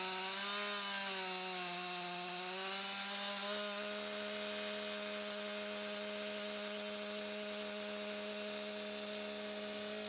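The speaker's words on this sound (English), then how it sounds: "I originally bought this Stihl MS661 chainsaw" A steady, loud Stihl MS661 chainsaw engine drones throughout while cutting pine, holding a high sustained whine with little change in pitch, as if running at full throttle.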